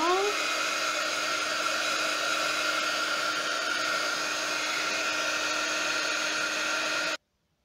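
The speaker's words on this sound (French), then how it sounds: "Donc on va sécher nos fonds. Donc j'en ai fait 5 au pistolet chauffant." A heat gun blows a steady, even whir while drying mixed media backgrounds, then cuts off abruptly near the end.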